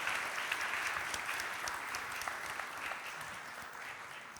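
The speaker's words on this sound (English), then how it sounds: "A big applause for them." A conference audience applauds the moderators at an opening keynote, a broad, even hiss of many hands clapping at moderate distance, sustained without pause and slowly easing in loudness.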